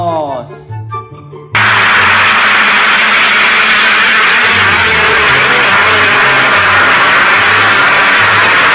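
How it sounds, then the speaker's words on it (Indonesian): Motocross motorcycle engine droning loudly and steadily with rising and falling revs, coming in abruptly after a short stretch of a voice speaking. "Motor cross."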